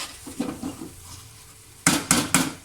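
Chana daal browning in ghee in a pan is stirred with a utensil, giving soft scraping strokes at first. Three sharp, louder scrapes or knocks against the pan follow near the end, with no talking.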